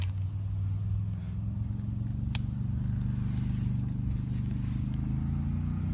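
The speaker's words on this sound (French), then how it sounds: "Là, j'entends un 4 roues qui roule." An ATV engine drones steadily nearby beside an abandoned industrial site, a continuous low rumble that holds at an even level throughout, with no talk.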